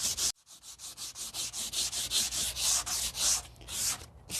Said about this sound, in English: Make sure you sand off every last bit of the old finish, because if there's any left, the new stain won't absorb into the wood at that spot.